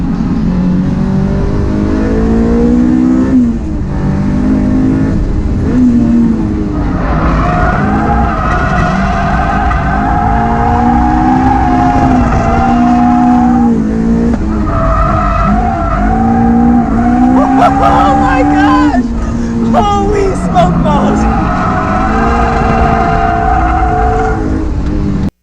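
A Honda S2000 driven hard on a track, engine revving loud and continuous through gear changes for the whole stretch, with tire squeal and skidding as it slides through corners, with no talk.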